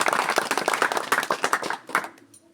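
An audience claps together in a dense burst of applause that thins out and fades toward the end, with no talking over it.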